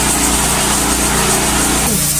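A generator's loud, steady motor hum drones on without pause, close by, with a slight shift in pitch near the end.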